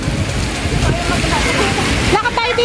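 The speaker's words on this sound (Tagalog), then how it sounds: "Ang grabe, lakas ng ulan guys." Heavy rain pours on a city street on Orchard Road in Singapore, a dense, hissing downpour with splashing, heard close while a person speaks over it.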